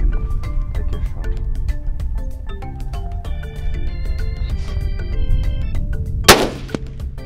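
A rifle shot during a hunt in Namibia cracks out as a single loud, sharp blast near the end, after a stretch of layered tonal chirps and calls in the open air.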